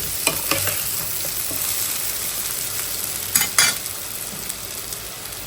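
Eggplant and potato slices fry in hot oil with an even, close sizzle, punctuated by a few sharp clatters and stirring sounds, the loudest cluster past the middle.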